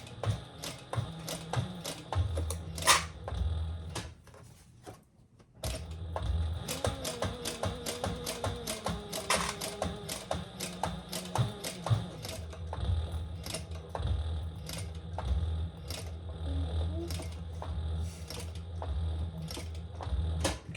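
A home sewing machine topstitches a Lemonza clutch bag, running in rapid, loud bursts of needle clatter with one short pause, then a long steady stretch of stitching.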